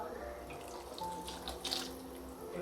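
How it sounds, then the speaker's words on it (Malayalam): First coconut milk is poured into a simmering Kerala chicken curry (chicken piddi); a soft, steady liquid stream splashes quietly for a few seconds with faint kitchen background. "നമുക്ക് ഒന്നാം പാലൊന്ന് ഒഴിച്ചു കൊടുക്കാം"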